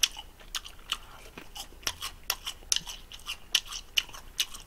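Close, crisp crunching bites and chewing of fried seaweed rolls with fire noodles, a dozen or so crackly bursts in an uneven rhythm with no talking.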